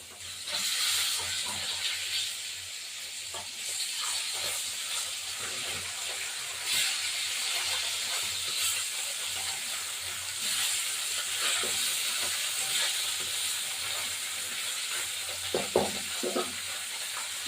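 Tilapia pieces frying in hot oil in a pan, a steady close sizzle and hiss that runs the whole time, broken by a few light stirring and scraping sounds near the end.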